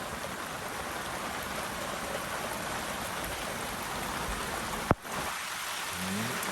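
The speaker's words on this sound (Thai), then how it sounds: "โอ้ฝนตกหนักเลยตัวนี้" Heavy rain pours steadily as a dense, even hiss, with a single sharp knock or thud near the end breaking the downpour; no voices heard.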